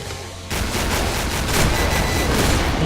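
Explosive rounds from a gun in the video game Killing Floor blast in a dense, continuous volley of loud booms that erupts after a brief quieter lead-in and stays heavy to the end.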